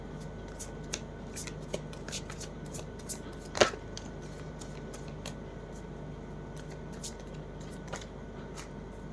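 Tarot cards shuffled by hand at close range, a soft continuous riffling with small taps and one sharper snap partway through, over a low steady background hum.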